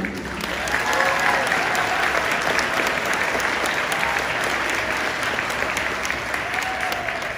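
A crowd gives a sustained round of applause for a band after a speech, dense and even clapping that holds steady at a loud level from start to finish, with no voices.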